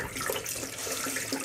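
Hot water pours from a tap into a sink in a steady, close splashing rush that lasts the whole short moment, with no voices.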